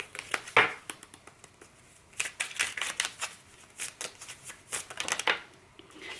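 Tarot cards are shuffled and drawn by hand, close up, in bursts of crisp riffling and flicking separated by short pauses, with no voice over them.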